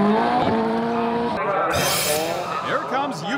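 A drift car at Maze circuit screams through a corner, engine revving loudly before a burst of harsh tire squeal, with shifting engine tones and a voice talking over it.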